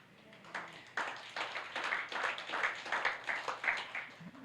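Slow, half-hearted clapping from a church congregation at a Filipino worship service, with scattered uneven claps building over a few seconds, moderately close, mixed with faint background voices.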